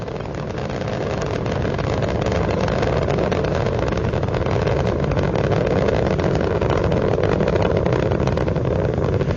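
A continuous, powerful rocket roar from Space Shuttle Endeavour's three liquid-fuel main engines during launch, throttling back to 72%, a dense rumbling wall of noise at constant loudness throughout.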